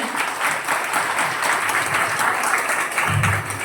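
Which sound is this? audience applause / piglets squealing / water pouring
audience applause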